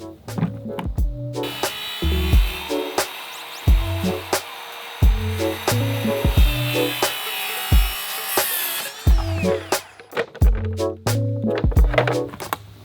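Wood being sawn into triangular pieces for a sauna frame: a run of sharp, rhythmic cutting strokes, close and fairly loud, broken by short pauses, with no talking.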